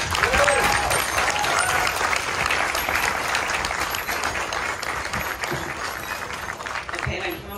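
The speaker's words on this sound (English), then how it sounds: "give a round of applause for everything that they're doing within the community" Loud, sustained applause from a crowd at an award dinner, dense clapping that stays strong throughout, easing slightly in the middle before swelling again near the end.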